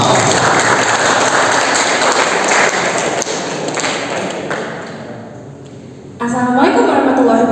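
Audience applause for a student giving an English class speech, a dense steady clatter of clapping from a crowd that fades gradually, then a voice starts speaking near the end.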